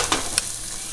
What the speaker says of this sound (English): so you have to first saute the onion